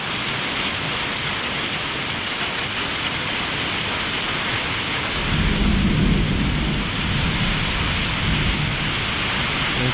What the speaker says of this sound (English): Now, what do you think of this storm